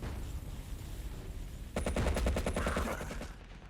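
Rapid bursts of Thompson submachine gun fire in a Battlefield 1942 match, a steady rattling stream of closely spaced shots lasting about a second and a half after a quieter stretch of background game noise.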